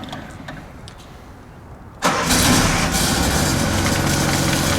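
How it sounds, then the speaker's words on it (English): Engine of a trailer-mounted HotJet III sewer jetter cranks and fires up abruptly after a couple of seconds of quiet, then settles into a steady, loud idle. "So you're going to fire it up just idling with the line"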